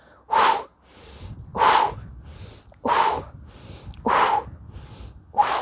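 Forceful breathy exhales during bent-over row exercise, four strong bursts repeating about every 1.2 seconds, close and loud, with quieter intakes between them.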